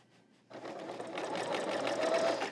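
An L890 serger stitches steadily after a brief quiet start, its motor hum and rapid needle chatter rising and holding close and fairly loud.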